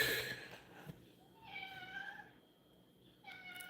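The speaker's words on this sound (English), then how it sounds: "And the cat wants outside," A house cat meows several times indoors, drawn-out calls in separate bursts, fairly close and moderately loud with faint background noise.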